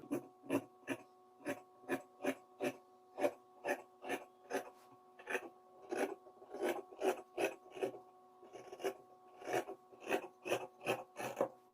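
Scissors cut through chudidhar fabric laid flat on a table, giving a steady series of about two dozen rhythmic snips, close and fairly faint, each a short rasping crunch.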